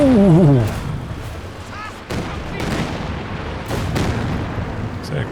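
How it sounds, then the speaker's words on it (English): Creeping artillery barrage in Company of Heroes 2, with repeated heavy booms and crackling impacts rolling through a dense battle din; a short whistling sweep opens it. "It is a creeping barrage."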